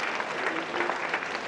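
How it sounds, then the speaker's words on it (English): A crowd applauding steadily throughout, a dense wash of clapping from many hands with no voices on top. "Let's give him a round of applause again"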